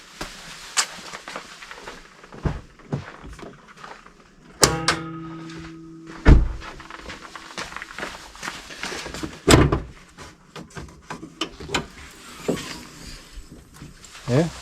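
Hood of a 2009 Nissan Sentra fitted with a gas strut kit opening, with a sharp metallic clunk of the latch release followed by a brief resonant ring and later thumps, amid scattered handling noises and some talk nearby.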